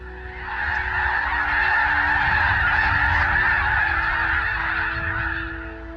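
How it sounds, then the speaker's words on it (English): A large flock of snow geese, white birds and blue-phase birds together, honks continuously at a lake, a dense, loud chorus of overlapping calls that swells and holds steady throughout. "Those are snow geese, snows and blues, and the blue is a color phase of the snow goose."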